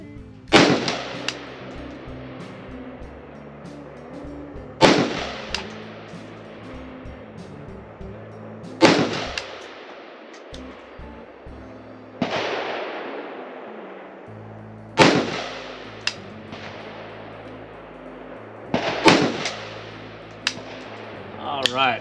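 Five sharp rifle shots from a WBP 556 AK firing Tula ammunition, spaced several seconds apart, each loud and close with a short echoing tail, quiet gaps between.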